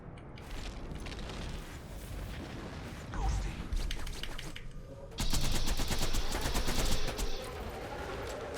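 Gunfire from a sniper rifle in the video game Borderlands 2 cracks through a busy battle mix, with a sharp shot near the midpoint and a louder burst of firing and impacts over the last few seconds.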